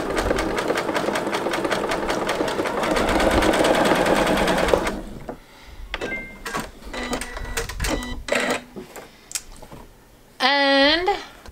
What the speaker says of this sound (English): And then I'm going to backstitch just to make sure that it locks in place.